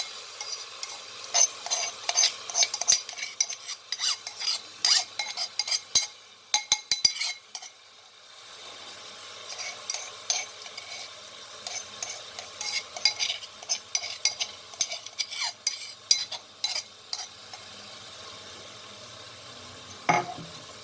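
A spoon stirs garlic ginger paste and three smashed green chillies frying in a pan for kidney liver biryani. Rapid scraping clinks against the metal come in bursts over a quiet sizzle, close by.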